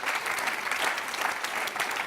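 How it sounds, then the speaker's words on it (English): An audience claps for a discussion panel on love, lust and commitment, dense and steady applause throughout, fairly close and full, with no voices over it. "Let's give them a big round of applause."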